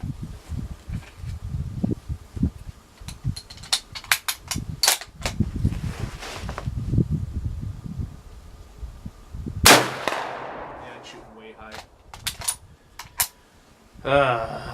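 Swedish M38 Mauser rifle shots at a steel plate, one sharp loud crack with a ringing decay standing out amid rustling and handling noises, plus a few fainter clicks and knocks.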